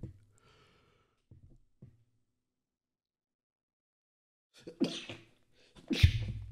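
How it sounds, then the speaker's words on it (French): After some quiet breathing, a single close sneeze bursts out near the end, preceded by a sharp intake of breath. "je vais éternuer"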